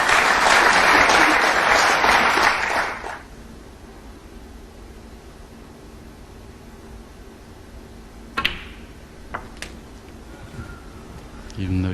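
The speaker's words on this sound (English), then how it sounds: "I thought the applause there was a little bit premature." Applause from the crowd at a 2011 Premier League snooker match between Ronnie O'Sullivan and Ali Carter, a dense burst of clapping for about three seconds that cuts off to near silence with a few faint knocks and a commentator's voice.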